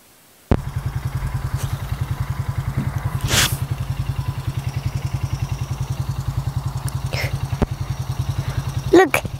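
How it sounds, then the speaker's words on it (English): A tractor engine runs at a lavender farm with a steady, low, rapidly pulsing chug that starts abruptly and continues throughout at close range. A few brief scrapes and knocks occur over it. "that lady is in the tractor."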